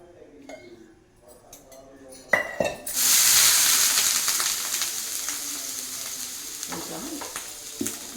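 Onion is rubbed over a hot oiled dosa pan: quiet clinks and handling at first, then a sudden loud sizzle that bursts up and settles into a steady hiss with scraping touches, a voice talking faintly beneath.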